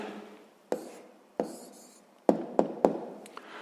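A pen writing down an answer, scratching on paper in a quiet room in a handful of short, sharp strokes and taps, close and clear, with no talk.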